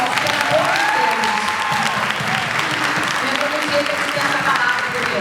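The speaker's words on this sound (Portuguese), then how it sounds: "uma salva de palmas" Audience applause fills a dubbing panel event, a dense steady clapping that holds at full loudness throughout with crowd noise beneath.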